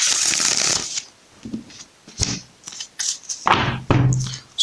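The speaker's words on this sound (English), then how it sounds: "so I shuffle and it blows the other cards out of the table" Tarot cards shuffled by hand on a table in a run of quick riffling and flicking bursts, close and crisp, with soft taps and pauses between them.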